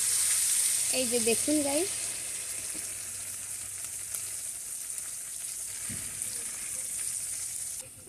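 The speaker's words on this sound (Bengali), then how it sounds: "ওপাশ করে মশলার সঙ্গে মাছগুলো কষিয়ে নেব" Hilsa fish pieces fry and sizzle in spiced oil, a loud, steady close hiss throughout, with a brief spoken voice near the start.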